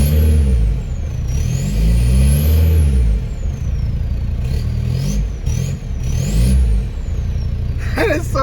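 A 2005 Volkswagen Beetle TDI with a straight pipe revs near and loud, its turbo whistle rising and falling in repeated sweeps over a deep engine rumble, ending in a short hiss.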